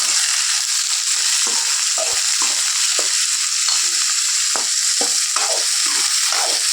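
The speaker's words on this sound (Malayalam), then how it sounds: "അതിൽ തക്കാളി ഇട്ടിട്ട് അത് നന്നായിട്ട് ഇളക്കി കൊടുത്ത് വാട്ടിയെടുക്കണം" Tomatoes, shallots and garlic sauté in a pan for a soya chunks curry, a loud, even hiss of frying with regular spoon knocks and scrapes as the mixture is stirred, close and without speech.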